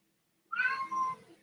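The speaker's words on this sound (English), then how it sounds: "I know my cats and dog are going crazy" A house cat lets out a single loud, drawn-out meow close by, rising then trailing off, with no talking around it.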